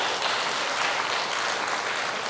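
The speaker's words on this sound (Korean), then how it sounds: "하나님께 영광의 박수를 한 번 더 올려드립니다." A church congregation at a peace prayer service applauds in praise, a steady wash of clapping held at even moderate volume throughout.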